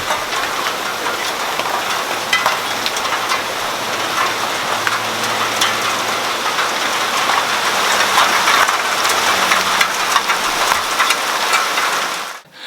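Steady rain falls on a city balcony in Stockholm, Sweden, a dense continuous patter with scattered louder drips close by, running unbroken with no voices.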